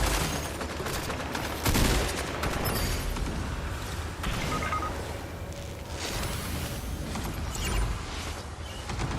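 Gunfire in Fortnite with bullets punched through walls, a busy stretch of shots and clattering mechanical clicks and creaks over a dense, noisy game-sound background.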